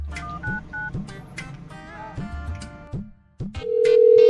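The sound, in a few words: telephone number being dialed, keypad tones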